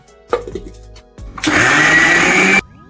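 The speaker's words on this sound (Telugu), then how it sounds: "మిక్సీ పట్టేసుకుందాం" A kitchen mixer grinder blends coriander, green chillies and coconut pieces, with a few short clunks and taps before the motor whirs loudly and steadily for about a second, then stops abruptly.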